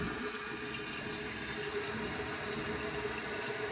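Water rushes steadily into a toilet tank through a newly installed fill valve, a constant broadband hiss and gurgle that holds even and close for the whole stretch with no talking.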